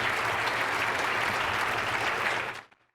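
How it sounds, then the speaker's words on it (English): Audience at a State of the City event applauding for the city manager, dense steady clapping from a crowd that fades out quickly at the end. "let's give him another round of applause,"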